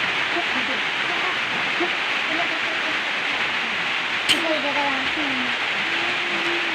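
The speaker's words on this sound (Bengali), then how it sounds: "বৃষ্টি হচ্ছে আজ অনেক" Heavy rain pours steadily outdoors as a constant, loud hiss, with faint chirps and one brief sharp knock partway through.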